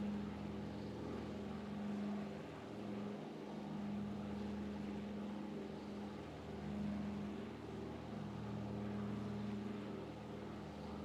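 The engines of a Breitling DC-3 airliner drone steadily through a flight over Germany in a flight simulator, a low, even hum with faint rhythmic beating, quiet and continuous with no voices.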